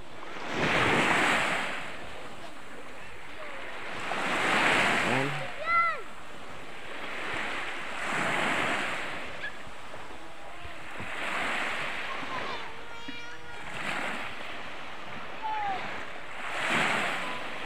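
Ocean surf washes onto a beach where small boats are moored, each wave swelling and breaking in a steady rhythm about every three to four seconds, with wind rumble and brief voices and splashes between the surges.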